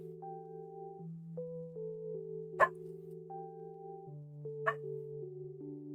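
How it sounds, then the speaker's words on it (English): A dog indoors gives two short, sharp barks a couple of seconds apart, cutting through steady electronic game music playing underneath. "sorry if you guys are hearing my dog. He's just barking at thin air"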